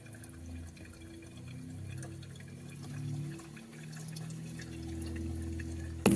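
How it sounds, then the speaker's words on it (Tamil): Refrigerant gas circulates through the compressor of an LG single door fridge with a light-on, compressor-not-starting fault, giving a continuous faint low hum and gurgling liquid flow under steady tones, close by with no talk. "இப்போ நான் திருவின உடனே கேஸ் சர்க்குலேஷன் சவுண்டு கேட்குதா உங்களுக்கு?"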